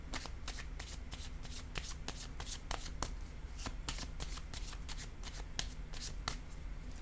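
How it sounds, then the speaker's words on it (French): Tarot cards are shuffled and drawn in rapid, crisp riffling snaps, close and steady throughout, with a quiet low background hum. "Je vais prendre une autre carte ici pour cette femme et la carte du plaisir."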